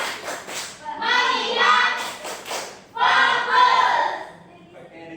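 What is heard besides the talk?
class doing a rhythmic focus-clap routine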